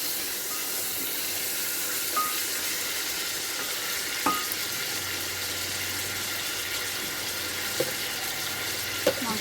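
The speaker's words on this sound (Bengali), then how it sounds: "লবণটা দিয়ে মাংসটা আমি তেলের মধ্যে ভাজা ভাজা করে নেবো, কষাবো ভালো করে।" Goat meat frying in oil with salt, a steady close sizzle with faint crackle and a few clicks from stirring, no voices.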